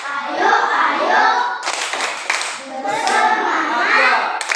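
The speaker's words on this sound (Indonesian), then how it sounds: "kita tepuk semangat ya. Tepuk semangat 1." Children in a classroom doing a rhythmic clapping chant: bursts of group clapping and energetic young voices chanting together in short, patterned phrases, loud and close.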